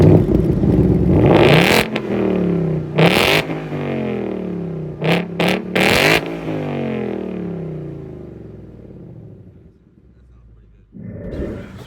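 Ford Mustang 5.0 V8 in stock form blipped through several sharp revs, loud and close, each rising and falling with a deep rumble, idle settling between, then fading near the end before a brief noise.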